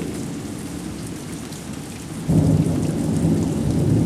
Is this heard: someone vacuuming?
no